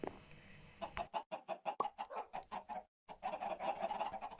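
Chickens in the Minecraft video game cluck in a steady series of short, evenly spaced calls that break off briefly and then resume, clear and close with no talk.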